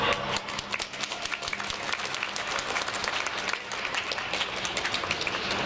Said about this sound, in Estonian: Ehk siis teeme neile aplausi.